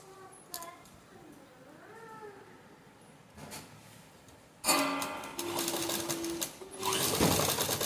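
A sewing machine runs close by, stitching a small Laddu Gopal dress in two sustained whirring bursts after a quieter stretch, with a faint cat meow heard early on.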